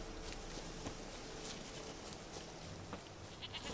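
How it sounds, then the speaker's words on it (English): A goat in the video game Witcher 3 bleats a few times in short calls over a steady wash of game ambience and footsteps. "Just go find this fucking goat."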